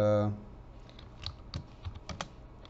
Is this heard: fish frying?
no